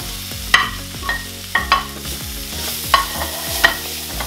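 A spoon scrapes and clacks through cabbage, peas and potatoes in a pan, several distinct stirring strokes at an uneven rhythm over a soft continuous sizzle, close and clear with no talking.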